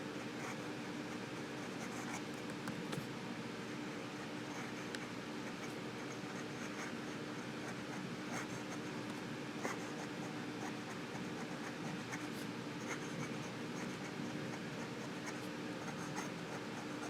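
A Monteverde Regatta fountain pen nib scratches across paper in steady, faint strokes, close and continuous with small ticks as lines start and stop, over a constant low hum, with no talking.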